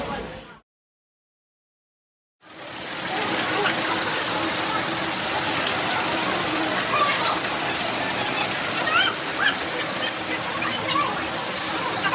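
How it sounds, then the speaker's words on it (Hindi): Fast-flowing water pours over a waterfall between rocks near Mussoorie, a dense, steady roar that starts abruptly after a second of silence and continues loud and unbroken. "आगे एक और फॉल है जिसमें बड़ी तेज़ से पानी आ रही है"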